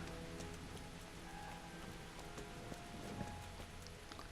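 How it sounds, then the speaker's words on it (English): Steady rain falls in the Kingdom Come Deliverance video game, a constant soft hiss of drops spread evenly across the clip, faint and unbroken, with no voices. "It's non-stop rain."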